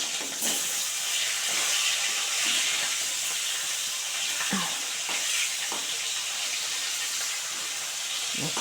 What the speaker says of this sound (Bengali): মাথা আর লেজাটা ভেজে নেব